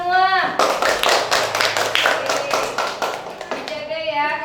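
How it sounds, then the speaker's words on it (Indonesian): A classroom of children clap their hands together, a dense run of close, sharp claps that starts abruptly, holds steady for about three seconds and then fades out. A teacher's voice is heard just before and after. "Tepuk tangan untuk kita semua."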